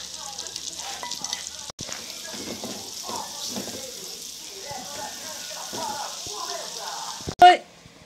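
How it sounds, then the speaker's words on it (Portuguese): Ham and sausage fry in a pan, giving a steady, moderately loud sizzle that runs throughout, with a short sharp clatter near the end. "Vamos deixar dourar um pouco o presunto junto com a linguiça"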